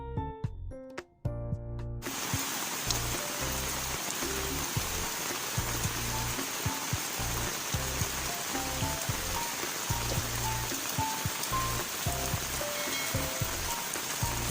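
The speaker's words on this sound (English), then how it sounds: "Every time when it's raining, everything will getting wet" Rain pours steadily onto a street vendor's stall and setup, a dense even hiss of drops with small patters, after a brief musical intro at the start.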